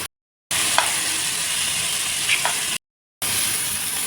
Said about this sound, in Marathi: आता हे व्यवस्थित फास्ट गॅसवर तळून घ्यायचं